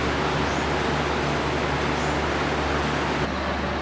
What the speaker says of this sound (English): So we try to use this air cooler here in the living room.